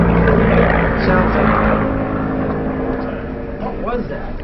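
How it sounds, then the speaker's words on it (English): A large helicopter passes overhead, its deep throbbing rumble loud at first and then gradually fading into the distance, with faint voices in the background. "That was a helicopter."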